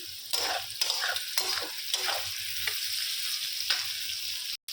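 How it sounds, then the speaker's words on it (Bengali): Cauliflower and potatoes fry in a pan, a steady hiss of sizzling broken by repeated scraping strokes of stirring, close and alone without voices. "ফুলকপি আলু ভাজাটা হয়ে গেছে, নামিয়ে দেবো"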